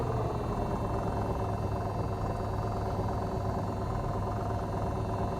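A Jabiru aircraft engine in Microsoft Flight Simulator idles at about 900 RPM, a steady, even, mid-pitched drone with a constant rumble and no speech.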